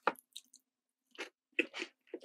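Someone chews a long, crunchy chocolate chip cookie up close, producing a few distinct crisp crunches in short bursts separated by quiet pauses.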